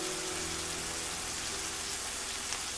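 Steady rain falls at night in the Tikal jungle, a dense, even hiss of drops on leaves and surfaces that goes on uninterrupted and fairly close.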